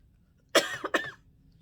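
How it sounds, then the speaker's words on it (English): Two quick, close coughs in a row, sharp and breathy, with a brief pause between them and quiet before and after. "I also have allergies and this coughing is going to drive all of us to drink."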